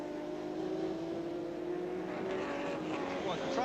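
BMW M1 Procar race cars at Donington Park in 1979 drone with a sustained engine whine that rises in pitch toward the end, heard at a distance under a commentator's voice.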